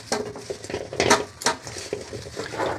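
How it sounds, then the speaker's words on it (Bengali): A spoon mixes turmeric and other spices into chopped mango pickle in a bowl, producing loud, close, irregular clatter and scraping bursts. "এবার এগুলো মেখে নেবো ভালো করে।"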